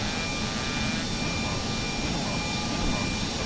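A simulated Embraer Lineage 1000 business jet engine spools up during start in the X-Plane flight simulator, a steady loud turbine whine and broadband roar that holds constant throughout.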